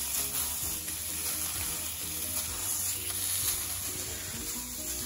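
Ground beef sizzles steadily in a pan on the stove, a constant close crackle and hiss with no talking.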